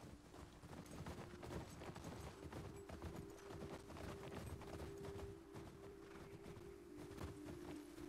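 Horse hooves clip-clop in a steady, quick rhythm in the video game The Last of Us Part II, faint and continuous, under a low hum with no talking.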